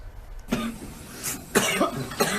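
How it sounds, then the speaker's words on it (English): Several harsh coughs from a teen on a ventilator come in bursts, a short one followed by two heavier, rasping fits, close and fairly loud against a quiet background. "The body of a teen spasming in a coughing fit on a ventilator just to breathe."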